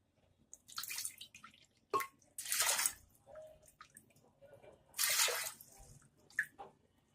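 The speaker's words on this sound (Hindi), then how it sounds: "इसके साथ ही मैं इसमें 2 कप पानी डाल लूंगी।" Water is poured in several separate splashing bursts into a pressure cooker holding dal, each pour lasting about a second, close and clear with quiet gaps between.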